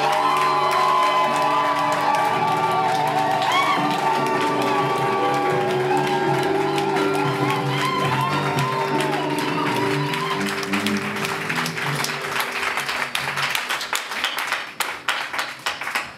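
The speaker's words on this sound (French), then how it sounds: "Est-ce qu'on peut acclamer Jésus?" A church congregation cheers, whoops and applauds loudly, voices shouting over a swelling crowd roar that turns to dense rhythmic clapping near the end.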